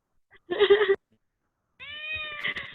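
A cat meows twice up close: a short, bright mew, then after a pause a longer, drawn-out meow, with silence around both.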